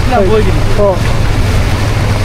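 Strong cyclone wind roars and buffets the microphone with a heavy low rumble during a storm that is flooding main roads. A voice is heard briefly near the start, and no rain is clearly audible.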